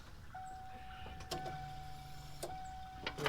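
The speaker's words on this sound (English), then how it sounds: "We got relays clicking." Relays click inside a 1994 Ford Mustang during a start attempt, a few sharp, close clicks spaced irregularly over a steady low electrical hum with a faint whine.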